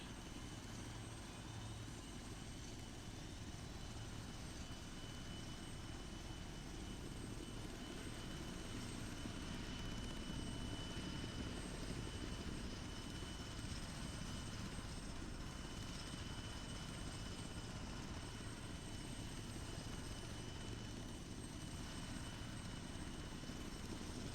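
A UH-1 helicopter flies in a military video game, a steady, fairly faint rotor and engine drone that holds level throughout with no talk over it.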